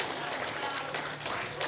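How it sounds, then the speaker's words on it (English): A live audience at a staff event for a behavioral health conference applauds for a woman on stage, a steady wash of clapping close by and sustained at even loudness for the whole stretch. "A big round of applause for Michelle, who was able to recognize an apple"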